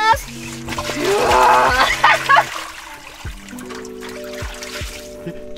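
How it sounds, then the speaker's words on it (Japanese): Water gushes and splashes into a pool set up inside a car, a rushing pour lasting a couple of seconds that then thins to trickles, while voices exclaim. "プールの水いきまーす"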